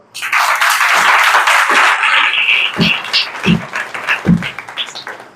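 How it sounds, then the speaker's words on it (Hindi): A congregation at a Christian gathering in Ballia claps for two sisters: a loud burst of group clapping at first, then thinning into scattered claps mixed with other noise. "2 बहन के लिए ताली बजाओ तो।"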